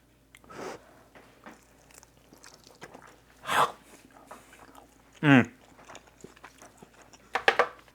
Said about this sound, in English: It's time to get the old-fashioned chomp and see how we did.